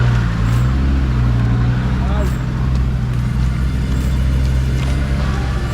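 A 4x4 off-road vehicle green lanes over a rock, its engine a low, steady rumble that holds close and loud throughout, with a voice talking over it.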